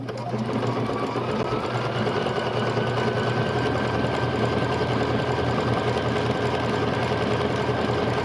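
A Bernina sewing machine stitches a zipper bag with a loud, steady, rapid mechanical whir that runs without a break from start to finish.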